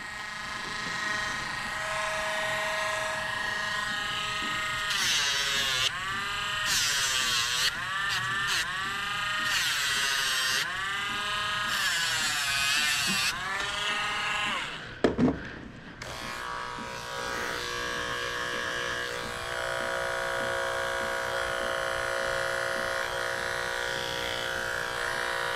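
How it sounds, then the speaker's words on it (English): A Dremel rotary tool buzzes steadily as it grinds a neglected apricot poodle's nails, its whine rising and falling with each nail over about 25 seconds, broken by a brief clatter midway, close and moderately loud. "Wear a mask when you're using the Dremel."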